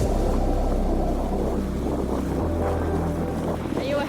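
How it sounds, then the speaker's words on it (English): Strong wind roars steadily over the microphone on a sailboat in rough water, with a low engine-like drone and rushing water, loud and continuous throughout. "it's so windy out there, but the wind is just funneling through these islands"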